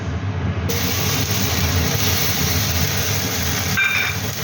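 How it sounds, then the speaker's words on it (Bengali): Garlic paste hits hot oil in a wok on a gas stove, giving off a loud, continuous sizzling hiss that holds steady and close throughout. "এবার আমি এর মধ্যে দেব রসুন বাটা"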